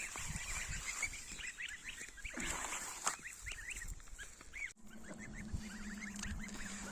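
Several geese honk repeatedly in an agitated, overlapping chorus at close range, with bursts of louder calls and some rustling movement.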